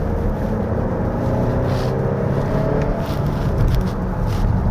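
A 2025 Volvo XC60 B6 AWD engine pulling hard on a winding mountain road, a steady loud drone with faint rises as it climbs toward 6000 rpm and shifts up, heard from inside the cabin with no speech.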